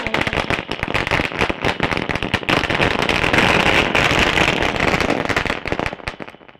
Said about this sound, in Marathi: बघा फटाक्याची आतिषबाजी या ठिकाणी केली